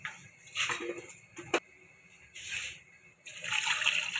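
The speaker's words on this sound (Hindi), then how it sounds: "तो यखनी निकालने के लिए ये मैंने इसमें पानी डाल दिए।" Water poured into a pot to make stock for chicken fried rice, splashing and trickling in bursts with a metallic clink between, close and moderately quiet.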